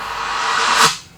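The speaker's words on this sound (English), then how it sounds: "but when you reverse the clap, it sounds like this." A reversed clap sample in a music production beat swells as a breathy hiss that builds over about a second, peaks sharply and then cuts away, loud and alone.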